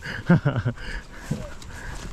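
A dog barks in a short burst of about four rapid, fairly close barks while it chases hikers walking past private gardens toward a quarry, followed by quieter rustling and a faint low sound.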